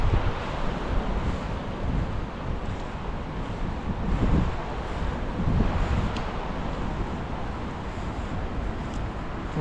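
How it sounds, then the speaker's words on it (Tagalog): A river flowing outdoors in remote countryside gives a steady, dense broadband rush of moving water, close and even throughout, with no talk. "Ito may ilog po rito."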